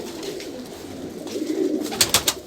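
Shikra breed pigeons cooing on a rooftop in Lahore, a soft murmuring coo rising mid-clip, followed by a few sharper close wing or bird sounds near the end.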